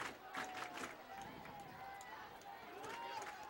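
Home crowd noise at a Plum versus Altoona high school boys football game, a steady distant murmur of fans with a few rising cheers, under continuous play-by-play commentary.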